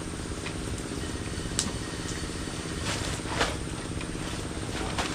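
A boat or motor engine runs steadily and loudly throughout, a continuous droning rumble with faint knocks over it and no talk.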